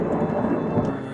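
Thunder rumbles through a thunderstorm alongside steady rain, a dense continuous low roll filling the short stretch with no speech.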